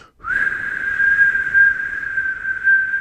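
Someone whistles a single long, steady note that holds for nearly three seconds in imitation of a cartoon-movie alert, clear and close against a quiet background.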